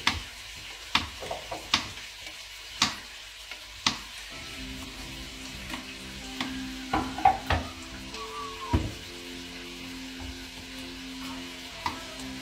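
Food sizzles softly in a pan while being browned for soljanka, the faint frying broken by sharp clinks and scrapes of a utensil stirring against the pan.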